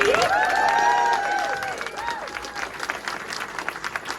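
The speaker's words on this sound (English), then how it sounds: "let's hear it for the Swedish GP winner, Dan Dooley." A speedway press conference crowd breaks into loud applause and cheering for the Swedish GP winner, swelling at once and then settling into steady clapping that gradually thins out.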